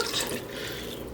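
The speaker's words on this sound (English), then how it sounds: "So we're straining it through a sieve into a pot." Meat juices poured through a sieve into a pot for a smooth Québécois gravy, a steady close liquid trickle and splash running the whole moment without talk.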